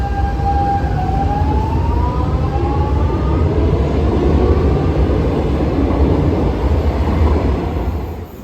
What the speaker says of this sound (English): I hadn't realised it was going to be a double-decker train, so I was very excited to be sat on the top deck.